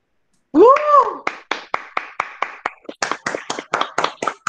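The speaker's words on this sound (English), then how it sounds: "A huge round of applause for that." At an Independence Day celebration, a loud whoop opens the stretch, then hands clap in a distinct, fairly regular rhythm after a sung performance. The claps are close and clear, growing slightly quicker and brighter toward the end.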